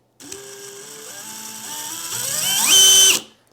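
A DeWalt DCD996 brushless hammer drill in drill mode spins up alone at close range, its whine climbing in steps to a high-pitched peak before cutting off and winding down.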